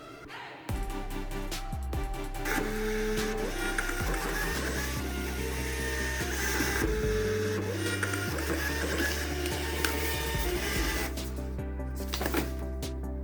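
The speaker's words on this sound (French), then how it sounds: "je sélectionne bien mon imprimante et puis j'imprime" A printer runs steadily while printing a shipping label for a wholesale order, a continuous mechanical whir with shifting feed tones and clicks that lasts throughout, loud and close, with no voices.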